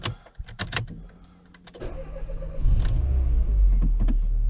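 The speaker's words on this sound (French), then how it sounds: "On peut démarrer le véhicule." A Dacia Lodgy turns over after a few clicks and soft mechanical whirs. Its engine catches and settles into a low, steady idle rumble close by.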